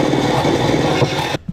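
A power sander grinds against metal in a steady, loud, dense whir with a rough rasping edge, then cuts off abruptly near the end, leaving a brief thump and quiet.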